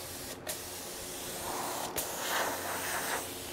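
Paint spray gun, freshly cleaned while prepping a Jeep for paint, spraying in short hissing bursts, moderately loud and close, with no talk.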